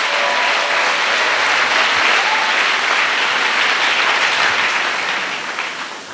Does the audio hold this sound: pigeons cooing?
no